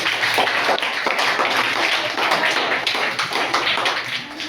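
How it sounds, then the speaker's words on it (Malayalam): A crowd of students and teachers applauds a fourth-grade boy at a school reading-month closing ceremony and workshop, with dense, steady clapping that holds evenly throughout. "ഒരു ക്ലാപ്പ് കൊടുത്തേ എല്ലാവരും"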